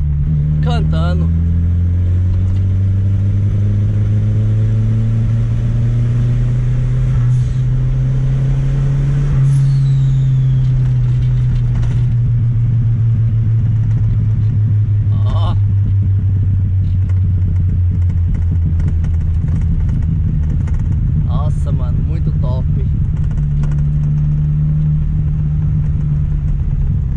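A turbocharged car's engine drones loudly and steadily while cornering, its pitch rising and falling with throttle, with intermittent hisses and clatter inside the cabin as people talk over it.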